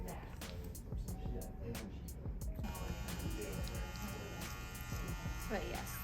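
Electric hair clippers fitted with a number 8 guard buzz steadily while cutting hair in a barbershop, close and continuous, with a higher-pitched motor tone and soft voices talking over it.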